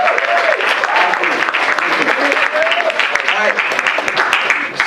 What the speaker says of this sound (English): give yourselves a big round of applause for coming out